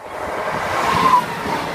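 Class 153 diesel unit 153374 runs on the Peterborough to Lincoln line as a steady, loud rumbling rush that holds close by through the whole clip, with no voices over it.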